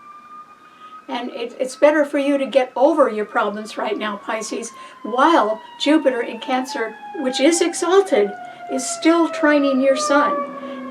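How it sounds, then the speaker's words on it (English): Wailing emergency sirens outside, long sliding tones that fall steadily in pitch and carry on beneath continuous close speech from one talker throughout. "I'm sorry about the sirens out there"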